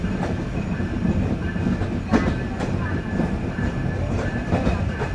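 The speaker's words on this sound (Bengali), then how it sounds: "লোকোমোটিভের ঢ্যাং ঢ্যাং ঢ্যাং ঢ্যাং আওয়াজ রয়েছে, এটা খুব ভালোভাবেই শুনতে পাচ্ছি।" Train noise from the front of the KapotaKsha Express running between Khulna and Rajshahi near Kotchandpur station, Jhenaidah, with steady rumbling rail clatter and repeated clanking knocks from the locomotive, loud and continuous throughout.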